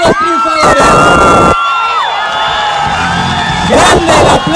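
Large outdoor crowd in a Madrid square roars, whoops and cheers loudly for Spain's European basketball champions, with sustained shouting that dips briefly and then swells again, dense and close throughout.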